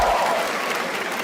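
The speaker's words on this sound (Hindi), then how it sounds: "एक बार जोरदार ताली बजा दो सबके लिए भाई।" Audience applause at a live comedy show in Bangalore: a dense, continuous wash of many hands clapping, loud and close, filling the whole moment without pause.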